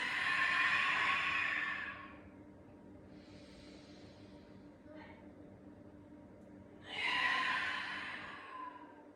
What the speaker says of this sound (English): And taking deeper breaths.